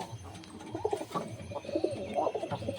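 Domestic pigeons coo from a nearby loft in soft, repeated throaty rolls, the low burbling calls overlapping one another at moderate volume.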